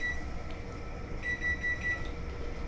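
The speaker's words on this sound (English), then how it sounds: "Kill the timer." A kitchen timer alarm beeps in a repeating high-pitched pattern, with a short burst of rapid beeps in the middle, over steady low kitchen background noise.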